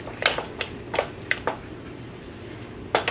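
A spoon stirs a pumpkin mixture with salt and Parmesan cheese in a pot, making quiet, irregular clicks and soft scrapes against the pot with gaps between strokes.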